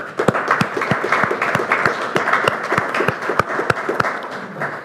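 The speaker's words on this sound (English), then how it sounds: "You really need to give yourselves, as a community, some applause." A community crowd at an Ontario Winter Games legacy fund announcement applauds steadily, a dense continuous patter of many hands with sharper close claps punctuating it.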